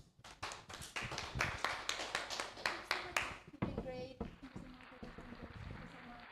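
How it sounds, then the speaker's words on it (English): Scattered clapping at a school English debate competition: a handful of sharp, uneven claps for a few seconds that quickly die away, leaving quieter room noise and movement. "Please give them once again a big applause"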